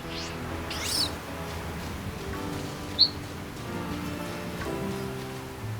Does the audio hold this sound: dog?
no